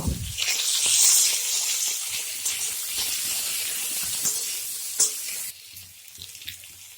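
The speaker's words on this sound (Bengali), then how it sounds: "এবার দিয়ে দেবো কচুটা। ভালো করে একটু ভেজে নেব।" Pieces of taro (kochu) frying in oil in a pan for a vegetarian curry, giving a steady close sizzle with light crackles and a brief utensil tap, no talking.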